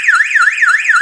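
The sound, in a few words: mains power failure alarm sounding from speaker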